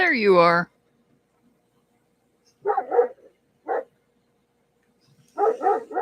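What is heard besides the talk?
dogs barking outside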